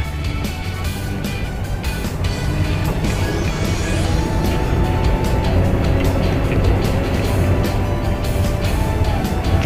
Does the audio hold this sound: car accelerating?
yes